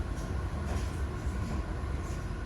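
A train runs along the coastal rail line from Greystones north to Dublin, heard from inside as a steady low rumble and rolling hum with faint clatter, no voices.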